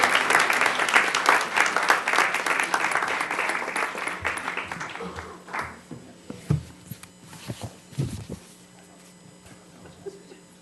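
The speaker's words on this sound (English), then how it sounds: "let's give Paul a round of applause." An audience claps for Paul at a 2013 library tutor and learner recognition event, dense applause for about five seconds that thins into scattered claps and fades, with faint murmuring underneath.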